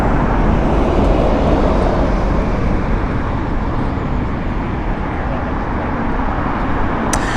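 Loud, steady roar of an airliner arriving at Heathrow Airport, a broad continuous rumble and rush that holds for several seconds with no talk.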